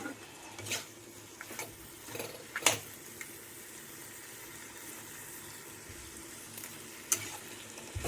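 Fried fish heads being stirred together with spiced vegetables in a pan, a soft steady sizzle broken by several sharp scraping clatters of the spatula against the pan, with no voices.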